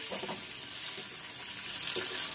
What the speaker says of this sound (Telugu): ఇవి 1 నిమిషం ఇలా ఫ్రై చేయండి